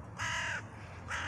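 Crows caw near a long-tailed owl roosting by day in a town centre in Kostroma, giving two harsh calls with a short gap between them, clear against quiet background hiss.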